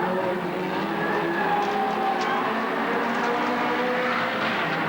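Pre-65 Mini race cars at the 1993 Wellington street race give a dense, steady engine roar with layered high revs from several small cars, loud and continuous throughout with no talk.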